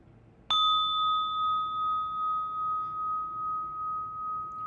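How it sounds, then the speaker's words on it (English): A single mindfulness bell struck once, a clear ring that sustains with a slow wavering pulse and fades gradually in a quiet room. "really allow our ears to receive whatever sounds are around us, including the sound of this lovely bell"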